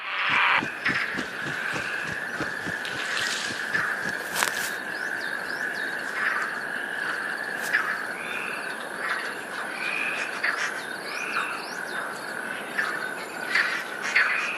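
Herons calling at a nest, with repeated harsh croaks and squawks over a steady chorus of other birds and background wildlife, moderately near and continuous.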